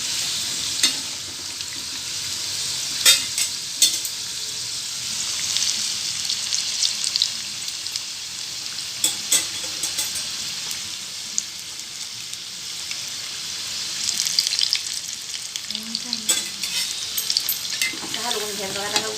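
Sweet modaks deep-fry in hot oil with a continuous crackling sizzle, broken by sharp clinks and scrapes as they are turned and stirred, no one speaking.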